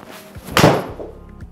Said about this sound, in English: That's not where your ball hit the screen.